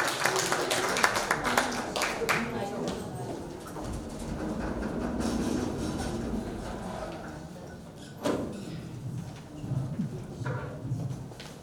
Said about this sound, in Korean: 큰 박수로 뜨거운 박수로 모셔주십시오